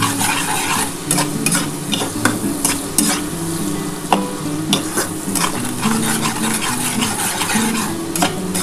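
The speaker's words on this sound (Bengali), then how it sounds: "এবার এটা ভালো করে একটুখানি ভেজে নিই" Chopped onions fry and get stirred in a pan as the base for a mutton and potato curry, a steady dense sizzle broken by frequent scraping stirs and light clinks of utensil on metal, close and continuous.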